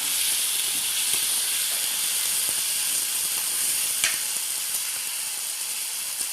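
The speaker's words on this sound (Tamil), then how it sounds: "நல்லா வதக்குங்க." Ingredients for Madras fish curry sauté in a hot pan, a steady close sizzle with faint scraping ticks and no talking.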